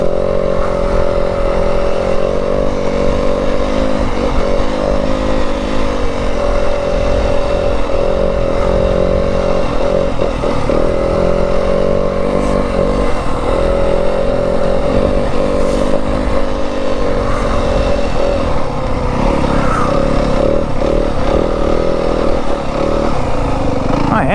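A 2025 Yamaha WR250F dirt bike rides through sandy Arizona desert, its engine droning loud and steady throughout with shifting revs, while a rider's voice comes through intermittently over it.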